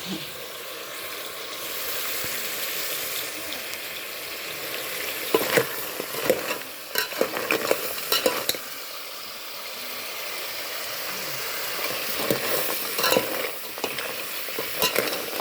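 Masala for a river crab curry is stir-fried in a pan, likely over a wood-fired chulha: a continuous frying hiss with clusters of scraping stirs midway and near the end, close and moderately loud, without speech.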